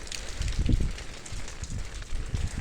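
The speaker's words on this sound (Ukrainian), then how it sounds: "Трошки погода нельотна. Дощ іде" Rain falling outdoors, a soft irregular patter of drops mixed with light wind rumble, faint and continuous with no talk.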